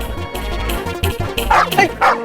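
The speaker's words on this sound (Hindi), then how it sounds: "भौंक क्या रहा है?" A dog barks several times up close in short, loud, yappy bursts, with a voice briefly mixed in.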